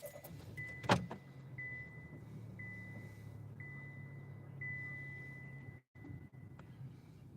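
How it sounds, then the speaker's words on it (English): A person gets into a car: a sharp thump of the door near the start, then a steady electronic chime repeating at an even pace over a low engine or cabin hum, ending with a short clunk. "Getting in my car, finna go to the house right now."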